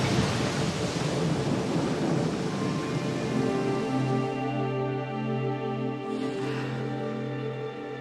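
A thunderstorm with a deep, continuous roll of thunder over steady heavy rain, loud and close, slowly fading through the clip, with no talking.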